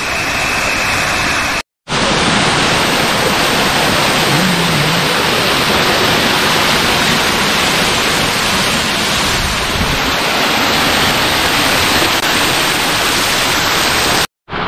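A small waterfall in Malappuram district gives a steady, dense rush of water that runs loud and unbroken through the scene, with two brief dropouts near the start and end and no talk.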